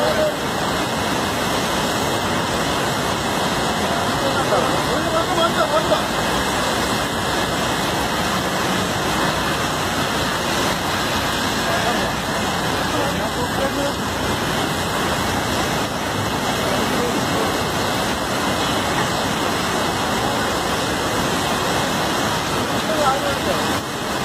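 Kerala floodwater rushing past in a loud, continuous roar, a steady close-up wash of churning water that holds without pause throughout.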